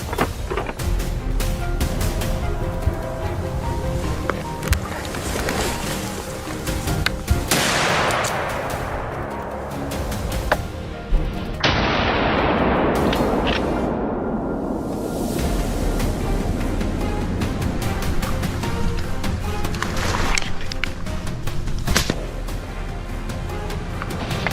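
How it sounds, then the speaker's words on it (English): A rifle shot fired while hunting a wild boar among trees: a sharp blast with a long rolling decay, then a second similar report a few seconds later, both over steady wind-like outdoor noise. "A decisive shot rang out, and the beast collapsed among the trees."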